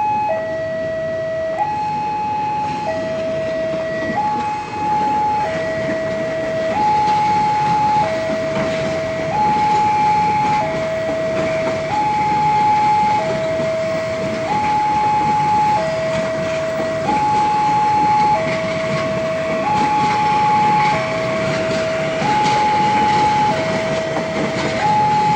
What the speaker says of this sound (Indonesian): KRL Jogja Solo melintas.